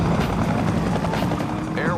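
A helicopter pursuing a car in a film scene from Gone in 60 Seconds (2000) gives a loud, continuous rotor thump and engine roar, with a voice talking over it.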